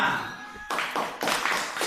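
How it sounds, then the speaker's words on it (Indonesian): Short burst of clapping in a classroom as group 5 is called forward, starting after a quiet moment and swelling in two bursts, fairly close. "tepuk tangan untuk kelompok 5"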